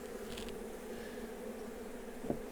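A swarm of honey bees being taken down from a tree, a steady low buzzing hum running throughout at moderate level, with a brief knock near the end.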